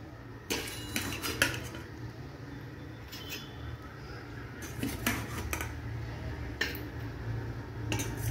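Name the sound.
serving green banana curry, utensils clinking on dishes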